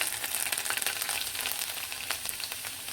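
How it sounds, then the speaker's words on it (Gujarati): Chopped garlic cloves sizzling in hot oil with mustard seeds, cumin and a pinch of asafoetida, a close, steady crackling fry with small pops. "આપણે જે ચોપ કરીને લસણની કળીઓ રાખી હતી ને તેને એડ કરીશું"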